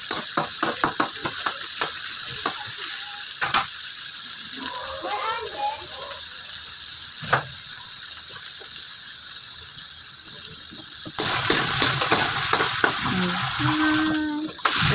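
Food frying and being stirred in a kawali while cooking caldereta, a steady sizzle and hiss with intermittent scraping clicks of the spatula, up close, with a voice speaking over it.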